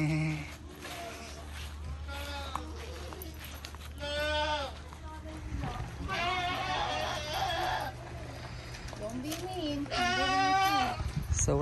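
Goats on a California farm bleat repeatedly at a milking, several wavering, nasal cries rising and falling near the listener, with people talking quietly between and under them.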